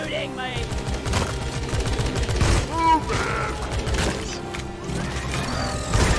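Gunfire in the co-op mining video game Deep Rock Galactic, rapid bursts of automatic weapon shots and clattering mechanical impacts in a loud, chaotic fight, with players' voices shouting now and then under the noise.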